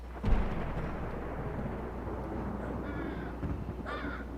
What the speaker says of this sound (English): That was quite the clap of thunder.